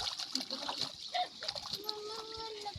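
Feet wading through shallow water on a flooded village road, giving several soft splashes and sloshes close by, with people calling out and talking over them.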